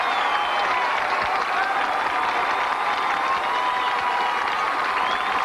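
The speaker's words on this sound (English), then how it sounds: "here's the crowd welcoming Monica back to New York City" A large tennis crowd at the 1995 Arthur Ashe Kids Day in New York City applauds and cheers a returning player, with sustained clapping and whistles and shouts rising over a steady roar.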